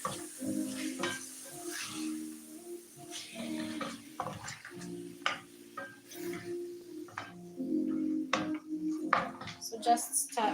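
Beef stirred and sizzling in a pot for stew, with soft steady frying hiss, scraping and clinking of a utensil against the pot in irregular strokes, fairly quiet and close.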